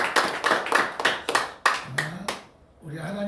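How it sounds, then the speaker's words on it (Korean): A church congregation claps in rhythmic bursts during a mission committee dedication service, the sharp hand claps ringing out in a hall and then fading into a brief lull with some voices. "우리 선교사랑위원회에서 우리 박수 한번 하겠습니다."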